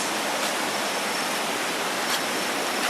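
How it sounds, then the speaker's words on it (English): A fast-flowing river rushes beneath a footbridge at Pura Gunung Kawi in Bali, fed by mountain water, making a steady, dense roar of running water that holds constant throughout, with no voices. "you get this beautiful, fast-flowing river below"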